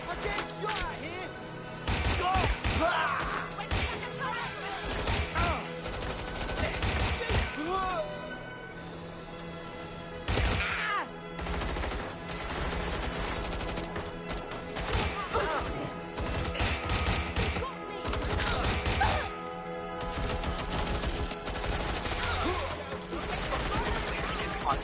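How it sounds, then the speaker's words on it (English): Rapid bursts of gunfire from a firefight in the open-world game Watch Dogs, repeated volleys and machine-gun rattles loud at moments, mixed with voices talking. "I'm getting shot at here!"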